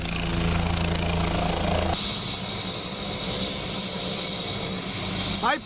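Helicopter at the Purbachal helipad in Dhaka, its engine and rotor giving a loud, continuous close drone with a steady high whine throughout.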